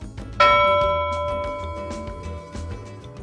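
A notification bell sound effect: a single bright ding struck once, its ringing tone decaying slowly over a few seconds beneath faint background clatter.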